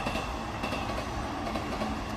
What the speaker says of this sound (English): So that's just a local train.